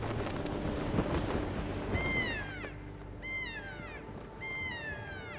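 Kea parrots give three clear, descending, mewing calls in quick succession, each a drawn-out wail of several notes, over a background of wind rush.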